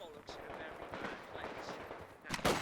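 Rapid machine gun bursts and scattered gunfire crackle in a Company of Heroes 2 online 2v2 match, with steady battle noise throughout and a sharp, loud volley near the end; a voice talks over the action.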